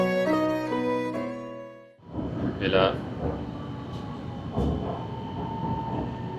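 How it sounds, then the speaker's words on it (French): Interior of a Shenzhen metro train, with a steady rumbling ride noise and rattles after a music passage ends, and people talking faintly in the carriage. "On est dans le métro, vous voyez"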